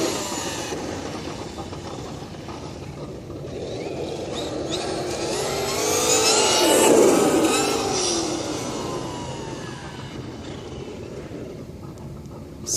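A vehicle's onboard audio system plays a simulated engine note that rises in pitch to a peak, then falls away. The droning tone is steady and loud throughout, with no one talking.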